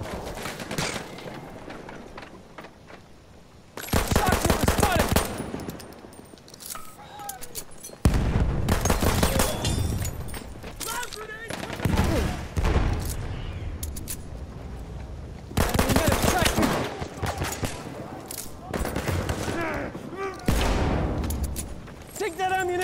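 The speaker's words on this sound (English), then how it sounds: "Enemy machine gun sighted!" Machine gun fire and other gunshots from a video game battle ring out in loud bursts and sustained rattling volleys, mixed with shouted voices calling out in the game.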